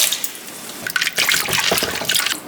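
Blanched green vegetables are dropped into a bowl of ice water, giving soft splashing and trickling sounds up close over about two and a half seconds, with no talking.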